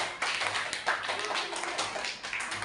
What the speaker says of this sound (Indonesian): Tepuk tangan untuk wanita silakan.